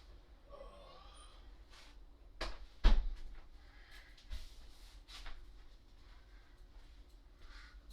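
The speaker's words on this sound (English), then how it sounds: "Let me close this door. Let me close my door." A door closes indoors at home, with a couple of sharp knocks and thuds in the middle amid faint shuffling and a low room hum.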